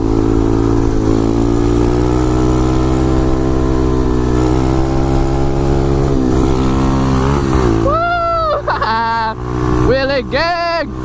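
A pit bike motorcycle engine held at a steady, loud, buzzing drone while riding a wheelie, dipping and wavering near the end as someone shouts excitedly over it.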